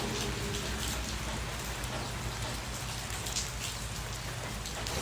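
Steady rain patters densely on frangipani flowers, leaves and surfaces nearby, a continuous even hiss with no voices.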